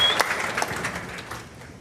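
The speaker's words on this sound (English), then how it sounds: "Give her a big round of applause" Applause for a newly introduced top leader at a supervisor training session, a brief burst of crowd clapping already underway that gradually thins and fades over under two seconds.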